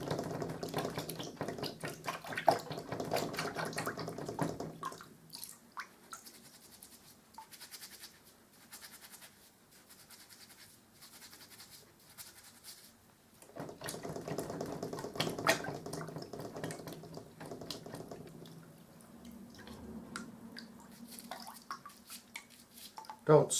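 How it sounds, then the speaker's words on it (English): Water splashes and sloshes as a pure bristle hairbrush is scrubbed and swished, in two busier stretches separated by a quieter pause with faint scraping and drips. "I'll just put this in the water and give it a good wash."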